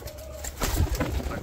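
Pigeons, including Shirazi and black Menadag breeds, cooing and wings flapping close by as they are released outdoors in Lucknow, a soft flurry of fluttering over a low outdoor background hum.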